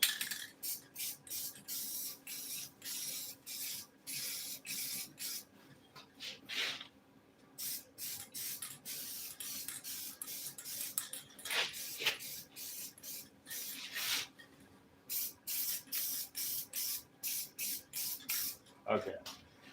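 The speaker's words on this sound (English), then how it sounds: "The only other choice we got is to spray them black." Black dye is sprayed onto a Ford F-100 seat being recovered, coming as repeated short hissing bursts of an aerosol can at close range, separated by brief pauses, with quiet talk in between.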